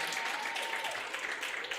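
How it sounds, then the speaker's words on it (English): Women In Sport conference audience applauding the technical team, a brief burst of dense, even clapping from a large crowd, moderately loud throughout. "we need a big applause for them."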